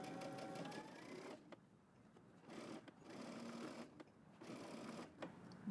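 A sewing machine back stitches a dress seam on a Simplicity 8639 dress with built-in power mesh, running in short close bursts separated by brief pauses, with no talking.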